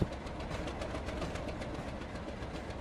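Steady rumble and clatter of a train running on track in the Roblox railway game GCR version 1.2.8, continuous and fairly loud with no talk.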